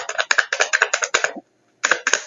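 Rapid crisp riffling bursts of playing cards being shuffled, several quick flurries, a short pause, then more shuffling close by.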